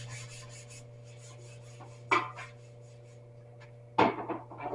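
Hand sanding paint down to bare metal on a 1974 Honda CB350 motorcycle part: quiet, rasping strokes with a steady hum behind, punctuated by two louder, gritty scrapes a couple of seconds apart.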